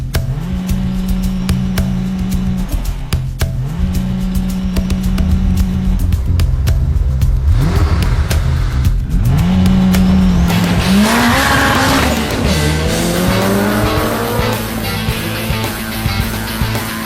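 An Aston Martin V12 races a Toyota Corolla on a track, with loud engines revving through rising and falling gear changes, tyres squealing and skidding, all continuous and close without talk.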